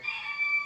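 A rooster crows in a brief, bright, sustained call, fairly clear and unaccompanied by talk.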